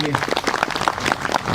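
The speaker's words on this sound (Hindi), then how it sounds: "सब ताली बजाएंगे यीशु मसीह के लिए।" Church congregation applauding for Jesus Christ at a Hindi-language healing service, a dense, steady burst of clapping hands with voices mixed in throughout.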